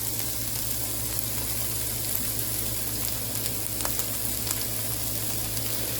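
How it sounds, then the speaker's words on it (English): Steady sizzling hiss of a tomato mixture frying in a pan, even and continuous with faint crackles, heard close up without talk. "you can hear it sizzle now."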